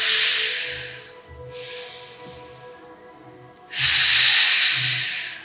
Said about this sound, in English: as we inhale, give yourself a little resistance against that belly, and exhale